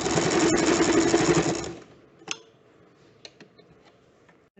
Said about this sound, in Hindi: ये बहुत छोटा भाग है तो इसको डबल सिलाई कर लें।